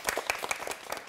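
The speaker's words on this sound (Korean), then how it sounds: "다시 한번 박수로 맞이해 주시면 고맙겠습니다" A short burst of audience applause at a lecture, many hands clapping at once with dense, crackling texture at steady loudness.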